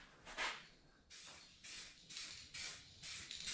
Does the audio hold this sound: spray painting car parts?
yes